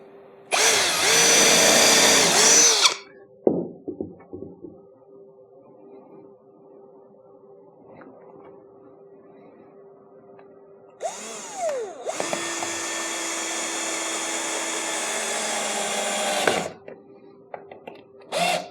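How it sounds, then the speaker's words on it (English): Power drill driving screws into wood framing for camper walls: a short loud burst of whining, then a quiet stretch with faint handling noise, then a longer sustained drilling run and a brief final whir, no talk. "then I can start drilling right-handed"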